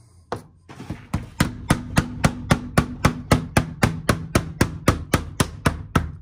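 A special rubber mallet taps steadily on a window during glazing work, giving a series of about twenty evenly spaced, close, dull knocks.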